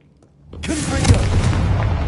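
A Confringo fire spell in Hogwarts Legacy bursts into a loud, deep explosion after a brief quiet start, then rolls on as a sustained roaring rumble to the end.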